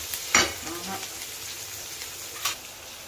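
Onions and green chilies fry in a pan for mutton dum biryani, a steady low crackling sizzle with a couple of brief sharper clatters.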